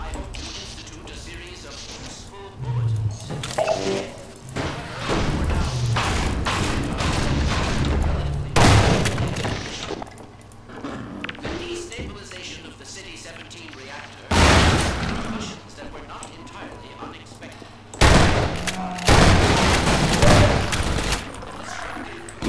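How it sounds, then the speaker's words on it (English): Shotgun blasts in Half-Life 2: Episode One, several loud booming shots in bursts spread across the stretch, with dense game combat noise in between and talk over parts of it. "Nothing like some shotgun action"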